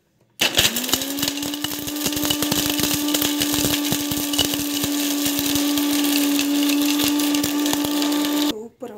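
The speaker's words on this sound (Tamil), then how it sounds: "நம்ம வந்து மிக்ஸிக்கு போட்டுக்கணும்." Fresh coconut whirs in a mixer grinder. A loud, steady motor whine runs unbroken for about eight seconds, then stops abruptly.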